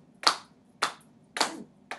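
Hands clap in a steady rhythmic pattern, four crisp, close claps evenly spaced about half a second apart, each with a short sharp attack and a quick decay into near silence.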